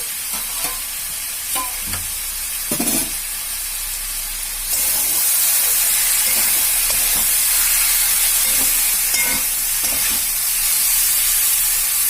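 Spice masala with taro (gathi kochu) is stirred in a frying pan, with scraping strokes and a sizzle that grows louder and steadier partway through, under no speech.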